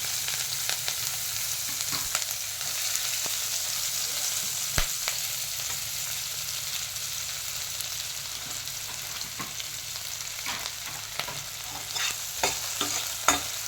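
Onions and green chilies fry in oil left over from frying dried fish, a steady broadband sizzle with occasional sharp crackles and pops, close and continuous with no talking.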